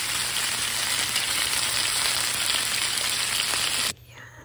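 Garlic, ginger and onion fry in oil for chicken adobo, giving a loud, dense, unbroken sizzle that cuts off abruptly just before the end.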